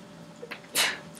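A single short sneeze bursts out nearby in a quiet room, preceded by a couple of small breathy sounds.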